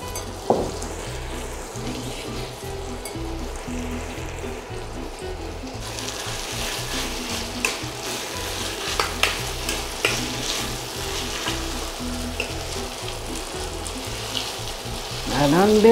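Chunks of meat for a pumpkin stew frying in a pot, a constant close sizzle with scraping stirring strokes and brief bursts of louder crackle, a voice speaking faintly at times.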